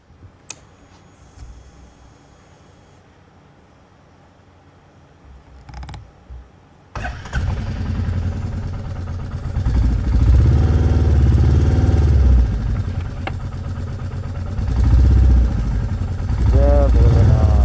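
A motorcycle is started for a ride from Kaliya Korba toward Raipur: quiet clicks and mechanical creaks, a sharp knock, then an engine catches and settles into a loud, close, steady rumble that swells and holds.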